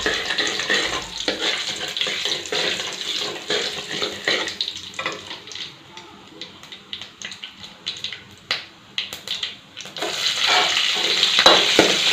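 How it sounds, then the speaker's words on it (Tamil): Mustard seeds tempering in hot oil for a kuzhambu, with garlic, cinnamon and chillies to follow: a steady close sizzle and frying hiss with scattered crackles and pops that thin out midway, then swell again. "குழம்புக்கு தாளிப்பு போட்டு எண்ணெய் காஞ்சிச்சு, கடுகு போட்டுக்கலாம்."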